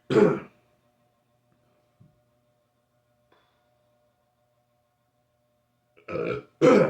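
Two clusters of loud, close throaty burps bracket a long stretch of near silence. The first is a single burst at the start, and the second comes as two quick eruptions near the end, with no talk.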